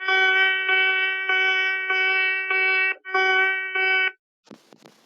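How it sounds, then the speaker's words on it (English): A loud electronic alarm from a Python alarm clock program beeps in a steady repeating pattern of long tones, then cuts off, followed by a few faint clicks. "do the alarm clock, and play the alarm sound"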